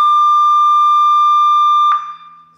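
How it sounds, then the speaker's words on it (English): A 3-digit game and event countdown timer sounds its siren, a loud, steady electronic tone that holds for about two seconds, then cuts to a short, decaying ring as it stops. "the siren sounds and it counts down to 2 minutes and 30 seconds."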